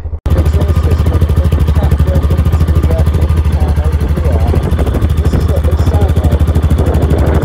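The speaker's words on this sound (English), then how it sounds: "She sounds punchy, you can feel the burble of a 660 cylinder engine" Yamaha XT660R single-cylinder engine with standard exhaust idles up close, a loud, steady low burble of evenly spaced pulses that runs throughout after a brief start.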